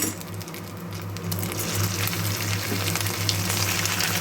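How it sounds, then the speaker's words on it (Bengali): Chicken pakora sizzles in hot oil with a steady, close crackling fry that swells slightly louder partway through, with faint clinks and no talk. "তেলটা গরম হওয়ার পর একটা একটা পকোড়া দিয়ে ভেজে নেব"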